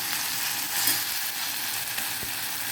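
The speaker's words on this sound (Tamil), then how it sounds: "நல்லா வதக்கி வச்சுப்போம்" Onion and garlic sauté in a pressure cooker with a steady, close hiss and crackle of frying that holds constant throughout.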